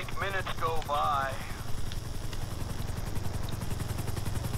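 A video game helicopter's rapid rotor thump pulses steadily in the background in Grand Theft Auto V while a voice speaks briefly at the start, followed by the continuing chopping drone.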